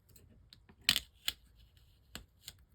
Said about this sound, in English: Well, I can use the edge of this as a straight edge. And just trim it right off.